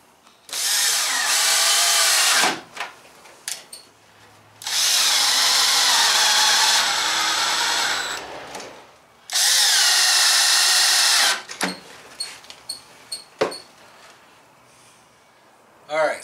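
Power drill driving screws into a wooden storage box for a teardrop trailer, three long loud whirring bursts with short gaps, followed by clicks and handling clatter.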